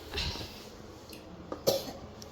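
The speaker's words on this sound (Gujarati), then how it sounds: "ઉધરસ એટલી આવે છે" A child coughs nearby, one rough cough early on and a sharper pair of coughs later, with quiet room background between.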